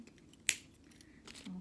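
Scissors making a single sharp snip while cutting material for pearl earrings, close and brief against a quiet room.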